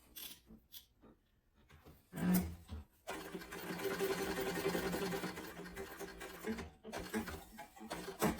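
A sewing machine stitches a fabric sling bag near a rivet hole, with a few short taps at first, then a long steady run of stitching, quiet and close, without talk.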